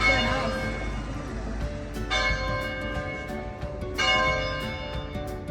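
Church bells toll in the town of Pontenure, Italy, heard from a walking path on the Via Francigena. Three strong, ringing strikes come about two seconds apart, each with long shimmering overtones, over steady outdoor background noise.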